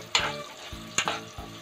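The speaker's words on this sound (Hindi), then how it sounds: "प्याज को बढ़िया से गोल्डन ब्राउन कर लेंगे।" Finely chopped onions fry in a pan, with a background sizzle and a few loud, quick scraping stirs of a utensil across the pan at irregular intervals. Each stir carries a short metallic ring.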